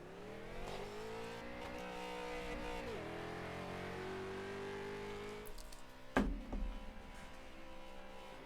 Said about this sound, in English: Get some burnouts with the camera there, Hunter.